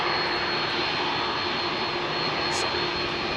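A CF6 jet engine spools up at Heathrow, a loud, steady broadband roar with a high whine that holds throughout, near and alone with no talk.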